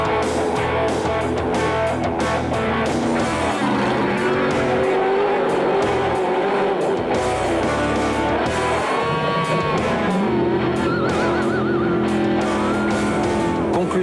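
A race car aquaplanes across water with its wheels locked during a muddy off-road race, its engine revving loud and continuous with tire squeal and rushing spray, and no one speaking over it.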